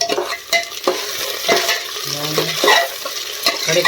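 Whole cluster beans (guar) fry in hot oil for a guar and onion curry, giving a steady close sizzle with scraping stirs and light clinks of a spoon against the pan.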